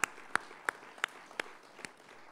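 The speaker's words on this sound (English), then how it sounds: "give another round of applause for him" An audience applauds at a music talk event: a thin, distant clapping with six sharp claps standing out at an even pace.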